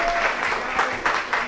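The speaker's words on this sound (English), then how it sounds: "we can give ourselves a round of applause" A live audience at a dance and emerging technologies artist talk applauds steadily, a dense wash of many hands clapping with a few louder swells, no speech over it.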